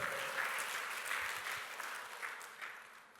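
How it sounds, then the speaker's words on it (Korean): A church congregation claps together during a Korean sermon, a steady wash of hand claps held at a moderate level for a few seconds and thinning slightly toward the end. "박수."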